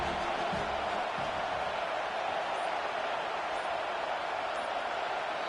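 Stadium crowd roar from a college football video game during a big fourth-down play, a steady, broad wash of cheering noise that holds for several seconds with no voices on top.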